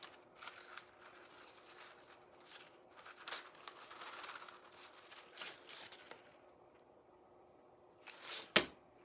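Sheet music paper being cut with scissors for a tassel, quiet crisp snips and crinkles spread unevenly, ending in a sharper louder snip.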